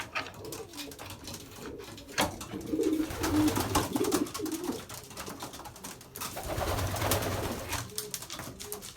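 Racing pigeons coo repeatedly inside a loft, their low throaty calls overlapping with bursts of wing flapping as birds fly about, close and fairly loud throughout with no talk.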